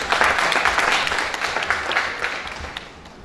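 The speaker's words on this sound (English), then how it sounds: "Denise, can we give you a round of applause, please?" A crowd applauds with dense, steady clapping that gradually fades out.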